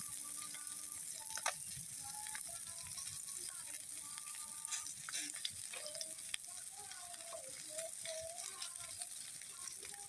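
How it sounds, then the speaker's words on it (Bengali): Cumin and radhuni tempering sizzling in oil beside frying fish, a soft continuous hiss with faint crackles and occasional light clicks, fairly quiet, with a distant tonal murmur in the background. "ওই তেলের উপরে জিরা আর রাঁধুনি সস ফোড়ন দিয়ে দিল"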